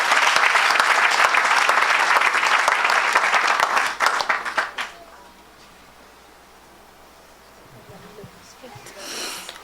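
A congregation at a church service breaks into loud, sustained applause and cheering for about four seconds, then it quickly dies away into a low, quiet room with faint murmurs.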